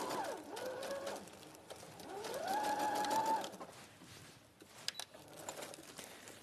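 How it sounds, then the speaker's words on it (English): A domestic sewing machine running on a long stitch length as it sews garment shoulder seams, a steady whirring needle rhythm that rises and slows in short runs, fairly faint with room hum behind. "so we'll just get our shoulder seams sewn too"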